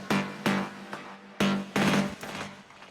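A Serum synth preset called Chili, two oscillators an octave apart with sub and noise and velocity tied to the filter cutoff, fires a handful of punchy bass hits in an uneven rhythm. Each hit has a noisy attack and a short, low tail.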